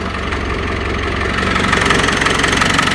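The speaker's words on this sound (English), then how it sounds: "you hear the power steering pump working, but no squealing." A car engine idles steadily with the steering held at full lock, the power steering pump adding a strained mechanical whine under the loud, continuous rumble, with no belt squeal.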